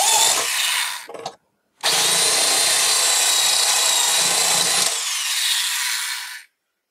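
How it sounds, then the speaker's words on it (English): A power drill whirs loudly as it drills holes in a rectangle of material in two long bursts separated by a short pause, then spins down and stops. "The more I can drill out here, the less I have to file out."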